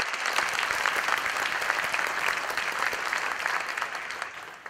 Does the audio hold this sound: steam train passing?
no